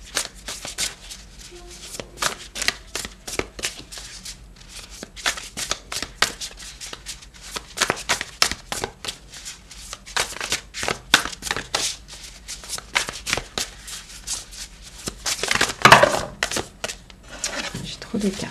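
Tarot cards being shuffled by hand in a steady run of crisp riffling flicks, close and fairly loud, with a slightly heavier burst near the end and a voice speaking faintly underneath.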